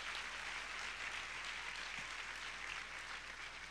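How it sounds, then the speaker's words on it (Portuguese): A church congregation claps steadily to welcome visitors during a service, a dense, even wash of applause held at one level for the whole few seconds, with no voices over it. "Eu queria que você desse uma salva de palmas de boas-vindas."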